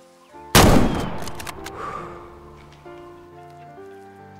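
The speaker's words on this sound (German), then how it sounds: "Ich werde es bereuen, aber ich schieße drauf." A single loud, close rifle shot fired at a mule deer in the hunting game Way of the Hunter, a sharp blast followed by a fading echo over quiet ambient game sound.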